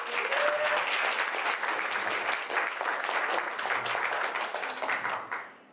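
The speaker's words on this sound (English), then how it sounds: "Give her a round of applause." Audience applause at a shopping mall launch event in Las Vegas, a dense burst of many hands clapping steadily for several seconds before tapering off at the end.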